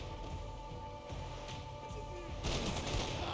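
Rapid gunfire in Max Payne 3 crackles over a steady electronic backdrop, swelling into a louder, denser burst of shots near the end.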